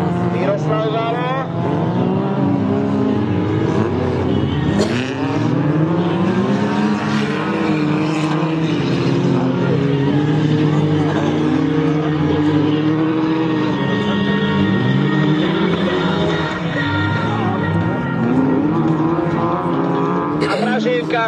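Race cars in an autocross heat, engines roaring and revving continuously with shifting pitch as they pass, under steady commentary from an announcer.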